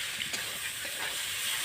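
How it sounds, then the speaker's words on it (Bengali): Grated boiled potato being stirred and fried with prawns in a pan, a soft, even sizzle with faint scraping stirs, heard close and without talk. "দিয়ে আমি এবারে এটা নেড়ে চেড়ে সব কিছুর সঙ্গে একটু ভাজা ভাজা করে নেব।"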